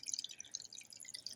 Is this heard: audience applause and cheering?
no